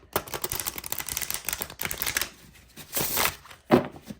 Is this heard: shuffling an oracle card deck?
yes